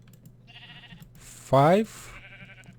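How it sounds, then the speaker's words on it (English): A Minecraft sheep gives one loud, short bleat when it is punched in the video game, right after a voice counting aloud. "If you punch a sheep 7 times"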